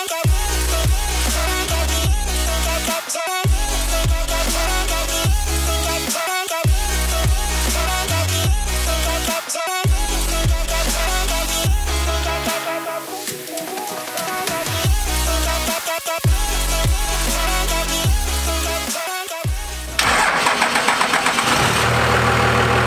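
A Cummins diesel truck engine revs repeatedly in loud surges, dropping back between pushes, with a deep knocking rumble close by and no talking.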